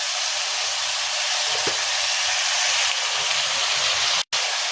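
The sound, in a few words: chickpeas frying in a pan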